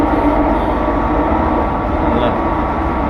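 Train arriving at its final station, a loud, steady rumble and rattle heard from on board, with a faint high squeal near the end.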